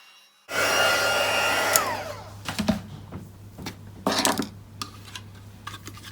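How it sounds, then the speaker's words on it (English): A handheld heat tool switches on with a loud steady blowing roar as it melts embossing powder on a stamped card, then drops back while scattered light taps and clicks from crafting follow. "Now heat that with the heat tool and melt that powder."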